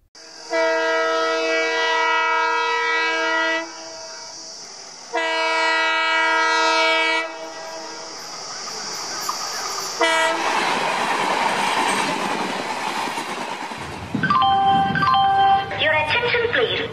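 A train horn blasts in long, loud sustained tones at a railway station, then a train rumbles past with clattering wheels before the horn sounds again in shorter bursts.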